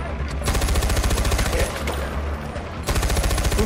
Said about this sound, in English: I'm getting shot through the whole fucking building